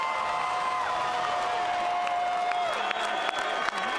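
A casino boxing-arena crowd at Twin River applauds and cheers the fighters after a ten-round bout, a steady wash of clapping and murmur with a few sharp claps, whoops and a tonal hum running through it.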